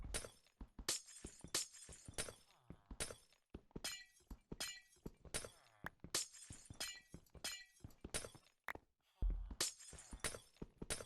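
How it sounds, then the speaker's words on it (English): Glass blocks break one after another in the Minecraft video game, a steady run of a dozen or more crisp shattering clinks at quiet, lowered volume, each short and sharp with small gaps, no talk over them. "It's way less unpleasant to remove all this glass."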